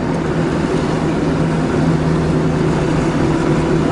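A car engine drones steadily as the car speeds up to overtake another car, a loud, continuous in-cabin rumble without talking.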